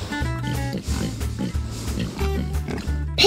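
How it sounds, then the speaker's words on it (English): A guinea hog grunting and oinking in a series of low, rough snorts, fairly close, with some faint background noise. "Pigs are animals that make a sound called oink."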